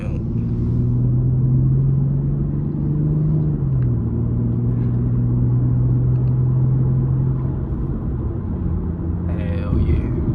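Infiniti G37 sedan cruising on a highway, with a steady loud cabin drone and engine hum that dips slightly in pitch midway, continuous road rumble throughout and a faint brief rattle near the end.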